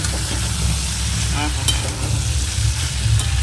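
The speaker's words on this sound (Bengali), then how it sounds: "একটু ঢাকা দিয়ে জাস্ট কষতে থাকি" Prawn masala sizzling as it is sautéed in a pan, the lid partly on, giving a steady close hiss of frying broken by a few brief scrapes of stirring, no voices over it.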